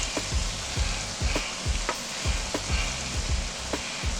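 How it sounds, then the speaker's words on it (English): Mushrooms and onions frying in a pan for chicken stroganoff, a steady close sizzle broken by repeated soft scraping strokes of stirring at a regular pace, with no voices. "You can see the mushrooms and the onions are cooking down nicely."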